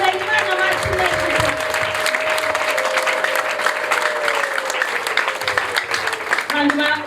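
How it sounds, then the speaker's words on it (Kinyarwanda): Church congregation giving sustained applause to God at a worship gathering, a dense continuous wall of clapping with crowd voices and a held tone running beneath. "Komera Imana amashyi menshi."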